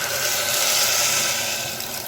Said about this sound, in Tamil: 3 டம்ளர் தண்ணி, அது இதில் ஊற்றிடலாம்